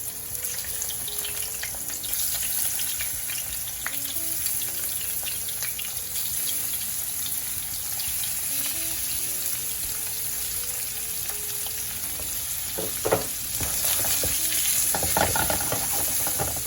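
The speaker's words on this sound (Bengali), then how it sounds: "তেলটা গরম হয়ে গেছে, মাছটা দিয়ে দিলাম।" Fish frying in hot oil in a frying pan, a continuous loud crackling sizzle that holds steady, with a few sharper spattering bursts toward the end.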